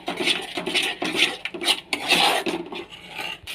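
Thick cashew paste being stir-fried in a pan, a utensil scraping and rubbing against the metal in steady repeated strokes, close and fairly loud, with light clinks and no talking.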